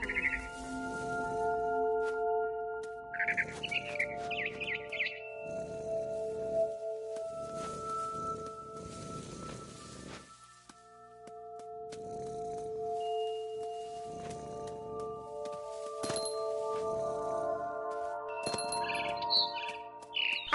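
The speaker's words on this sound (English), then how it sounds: "Then I heard chirping outside my window. It was a barn swallow going back to her nest." A barn swallow chirps in a video game, with short bursts of bird calls at intervals over sustained tonal game music and ambience, fairly faint in the mix.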